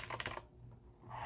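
Thrift-store mechanical keyboard being typed on, a short burst of several quick, light clacking keystrokes up close, then a brief quiet pause.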